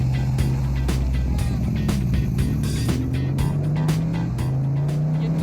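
A V8 engine with a five-speed gearbox idles and revs close by, a loud, continuous low rumble with a rising pitch toward the end and no talking.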